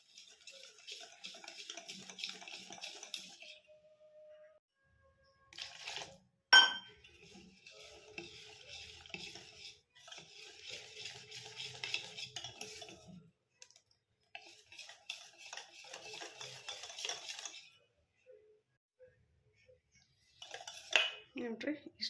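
Besan batter for street-style vada pav is mixed with water in a bowl, with intermittent wet clicking and scraping strokes in bursts separated by short pauses, plus one sharp clank of utensil on bowl.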